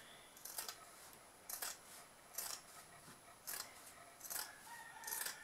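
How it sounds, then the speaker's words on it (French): Fabric scissors trim excess cloth while a coin purse is being sewn, six separate crisp snips spaced about a second apart, close and faint in a quiet room. "je coupe le surplus"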